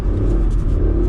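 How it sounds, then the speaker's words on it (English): A Lexus LC500 Convertible drifting, its engine revving loud and close with a heavy, continuous low rumble and no pauses. "This is a full muscle drift car."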